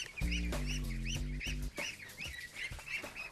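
French free-range ducks, being vaccinated, give a run of honking quacks, first loud and close in a quick series, then softer scattered calls.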